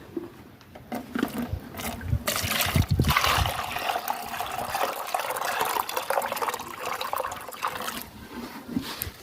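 Water poured out into a container for birds at a rural farm: a steady, close splashing and gushing fill that runs for several seconds, then thins to trickles and drips.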